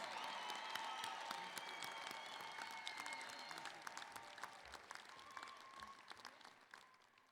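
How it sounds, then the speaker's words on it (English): Applause for new doctoral graduates at the UNLV Winter 2022 commencement, a large crowd clapping in a big hall, sustained and dense, slowly thinning toward the end, heard from a distance. "Let's have a warm round of applause for all of our new doctoral graduates"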